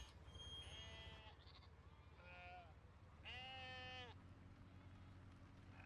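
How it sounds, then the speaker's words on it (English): Sheep bleat on a hillside in Farming Simulator 17: four or five wavering bleats, one long and prominent, rise over a steady outdoor ambience at a moderate distance. "You can hear the neighboring sheep up on the hillside already."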